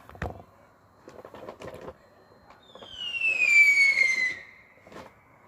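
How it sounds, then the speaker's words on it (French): Firecrackers and fireworks go off in a neighbourhood: scattered sharp pops and crackles sound at a distance, with a rising whistling streak in the middle and no one speaking. "qui essaye de lancer des pétards ou des feux d'artifice"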